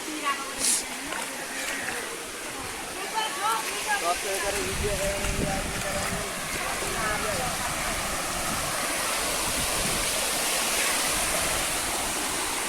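Strong floodwater rushes through a village, a loud continuous roar of flowing water that fills the whole scene and swells louder midway, with a few voices talking over it near the start.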